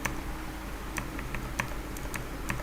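Clicky typing on a computer keyboard, a sparse run of separate key taps with uneven gaps, close and moderately loud over a low steady background hum, no voices.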